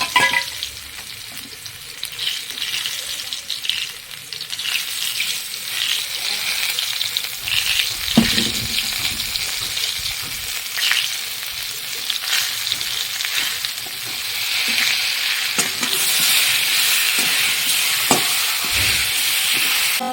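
Potatoes, green banana and spices such as cumin, chilli and ginger fry in a pan for a Bengali fish curry, giving a steady close sizzle with occasional stirring scrapes that swell louder near the end.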